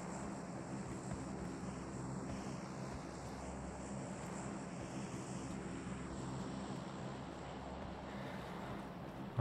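Steady drone of an airplane passing over in the battle royale game PUBG Mobile, a constant engine hum that holds at even loudness throughout with no voices.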